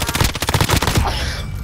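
A rapid burst of small-caliber gunfire rattles off in quick succession, dense and fairly close, then cuts off into a brief tail of echo.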